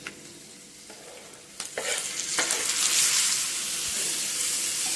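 Chopped tomato dropped into a pan of frying onions for idli uppittu: a quiet start, then a sudden loud sizzle swelling to a steady, close hiss with stirring scrapes.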